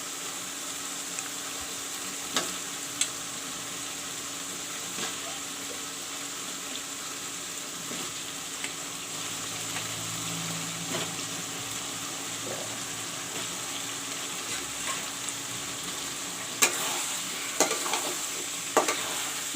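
Potatoes stirred into browned masala with nearly cooked tomato in a pan for fish masala curry, a steady close sizzle with scraping spoon strokes and occasional sharper clinks, no talking.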